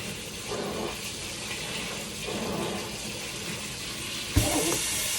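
Water pours steadily into a plastic mushroom monotub partly filled with rocks, a continuous close splashing rush with slight surges, then a brief knock as it continues.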